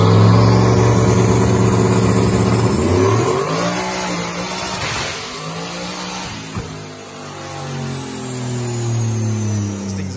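A Nissan S14 race car engine revs hard, climbing to a loud, raspy peak, then dropping back to a rumbling idle before revving up again, close and alone with no talk.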